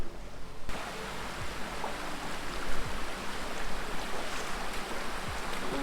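Stream water rushing continuously on its way to the Thenaruvi waterfall in the Javvadu Hills, a steady broad wash that is close and full, with no voices.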